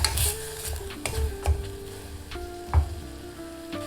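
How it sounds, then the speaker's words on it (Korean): Beef sizzles and fries in sesame oil over medium-low heat for Korean seaweed soup, a steady close crackle with a few sharper pops and light stirring scrapes, and no talk. "참기름 1큰술 반을 두르고 중약불에서 소고기를 볶아주세요."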